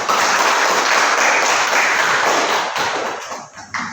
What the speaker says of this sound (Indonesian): tepuk tangan untuk kedua kelompok